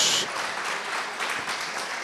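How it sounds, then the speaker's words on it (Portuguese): A church congregation claps during a sermon, a steady wash of applause from many hands throughout. "Pode aplaudir Jesus."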